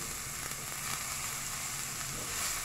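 Onion hits well-heated oil in a pan and sizzles with a quiet, even hiss that runs unbroken throughout, with no voices over it.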